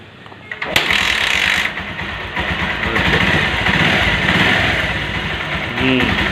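A Bajaj Pulsar 150cc motorcycle engine starts and settles into a steady, loud idle close by, with a faint voice briefly audible near the end.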